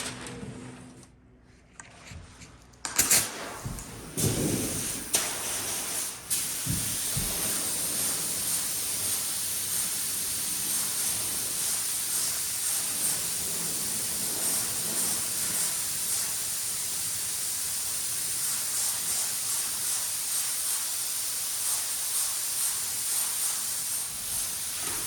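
A spray can or gun hisses steadily and continuously for a long stretch while coating a part from a Gottlieb Rocky pinball machine restoration, preceded by a few knocks and handling sounds.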